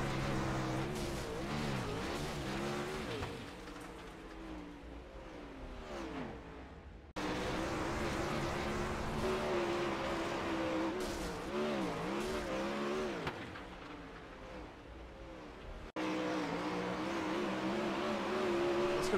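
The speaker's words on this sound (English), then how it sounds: "Let's go inside the cockpit of that race car." Onboard cockpit sound from a World of Outlaws sprint race car: a loud, raw engine roars and revs, pitch sweeping up and down through laps, continuous with abrupt cuts between shots.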